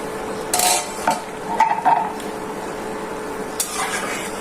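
A cooking pot of red lentil and okra dal is covered and checked, with several light metallic clinks and clanks of the lid and utensils over a soft, steady kitchen hiss.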